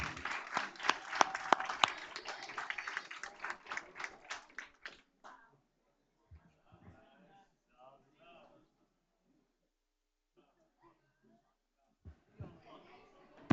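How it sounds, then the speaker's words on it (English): A short burst of clapping from a crowd at a board meeting fades out after a few seconds, followed by scattered murmurs and quiet talk in a room. "Let's give them one more round of applause."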